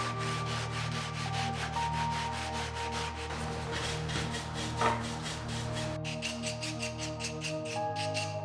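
Rhythmic back-and-forth strokes of hand sanding on the wood of a Carnegie library card catalog, close and steady, with a constant mechanical hum underneath and a brief pause in the strokes midway.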